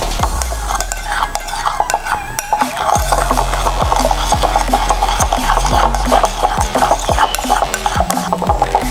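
Egg is mixed in a bowl for a sandwich, a utensil stirring and clinking against the bowl in quick, regular taps that grow steadier partway through, close and clear.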